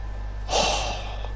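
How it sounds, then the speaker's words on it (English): A single short, congested sniff through a blocked nose, close to the microphone, over a constant low background hum. "I cannot cooperate without sniffing my nostrils"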